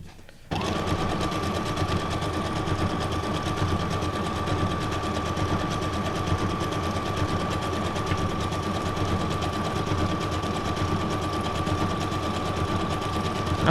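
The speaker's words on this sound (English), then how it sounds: "I'm glad I glued it down in the middle first, because I think it probably would have shifted while I was doing the sewing." A sewing machine stitches through a paper journal page, running steadily with a continuous buzzing whir at close range for over twelve seconds after starting up, with no talking.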